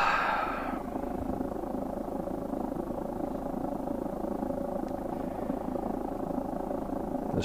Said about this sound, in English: The sweet sound of my rocket stove, that I can deal with.